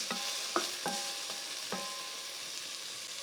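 Vegetables, including onion and garlic, sweat with salt in a soup pot for tomato soup, giving a soft, steady sizzle with several light clinks and scrapes of stirring.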